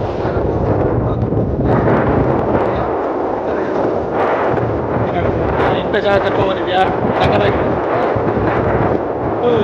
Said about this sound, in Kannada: ಮೋಸ್ಟ್ಲಿ ನಿಮಗೆ ಗಾಳಿ ಸದ್ಯ ಜಾಸ್ತಿ ಕೇಳಿಸ್ತಾ ಇರುತ್ತೆ.